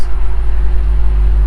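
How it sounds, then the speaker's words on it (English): A twin-turbo V8 BMW M5 engine idles with a steady, low rumble throughout, with a constant deep hum and faint background noise, no revving. "when it's at idle, it just sounds like this."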